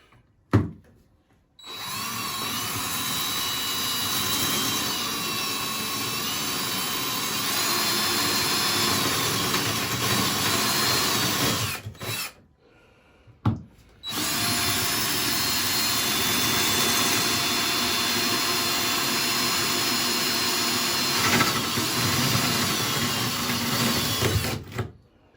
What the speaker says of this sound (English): I'm just gonna drill through the tile